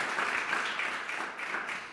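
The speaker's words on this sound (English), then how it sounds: "Let's give him another round of applause." Audience applause at a celebration of life and legacy, a continuous dense clatter of many clapping hands, moderately loud and steady with slight swells, no speech.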